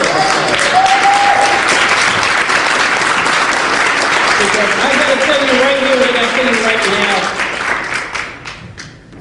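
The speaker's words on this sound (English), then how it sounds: "So give yourself a round of applause." An audience at a speaking event applauds loudly and steadily, a dense wash of many clapping hands that begins to fade toward the end while a speaker talks over it.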